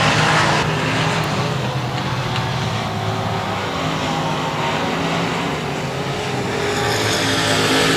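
Dirt track race cars roar around 281 Speedway in a continuous loud, blended engine drone that swells and fades as the pack circles the track.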